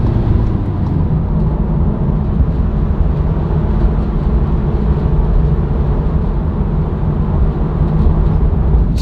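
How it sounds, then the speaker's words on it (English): Steady low road drone fills the inside of an unsoundproofed van driving on a dual carriageway at 55-60 mph, a loud constant rumble with no breaks and no voices. "You can kind of hear that ambient drone noise"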